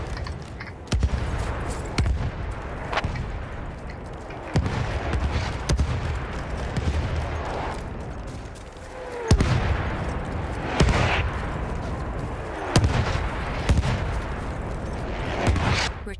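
An enemy artillery barrage in Battlefield 1 during a telegraph rush match pounds steadily, with repeated heavy booms and blasts over constant gunfire and machine-gun rattle, loud and dense throughout.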